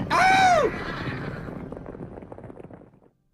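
A single horse lets out a loud, close whinny that rises and then falls away, followed by a few seconds of quieter rustling and shuffling noise.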